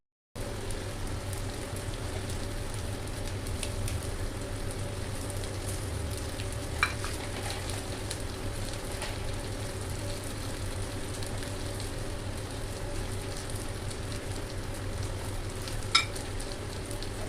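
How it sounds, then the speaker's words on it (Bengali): Chopped onions fry in hot oil with cardamom, cloves and a piece of cinnamon, giving a steady even sizzle for the whole stretch, broken only by a couple of brief sharp clinks from stirring. "সেই দুটো আমি ভালো করে ভেজে নিচ্ছি। ভাজার সময় এতে আমি দেব একটুখানি ছোটো এলাচ, লবঙ্গ আর এক টুকরো দারচিনি"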